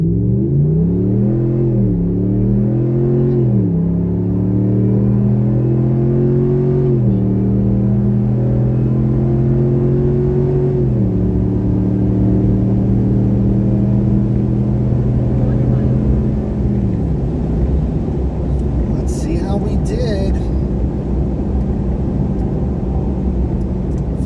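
A Ram 1500 truck with an Airaid Junior cold air intake and Falcon all-terrain tires accelerates hard from 0 to 60, its engine rumble climbing loudly through several gear shifts before settling to a steady cruise drone.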